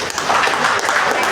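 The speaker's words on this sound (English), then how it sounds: "Give her a big round of applause." Applause from an audience at a career guidance talk for BA and BCom students, a dense clatter of many hands clapping at close range, steady and loud through a short burst.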